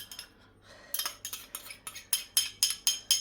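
A spoon scraping leftover yeast from a bread-making container: a quick series of sharp metallic scrapes and clinks, growing louder and more regular, close by and without talk.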